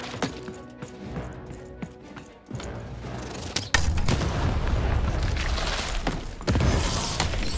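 Booming cannon blasts and crackling impacts come in quick succession over a dense, noisy soundtrack in the video game Lost in Random during a Baroness fight, growing louder partway through.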